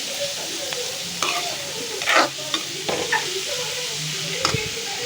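Vegetables sizzle steadily in a pan while a spoon stirs them, scraping and clinking against the metal in several irregular strokes close by.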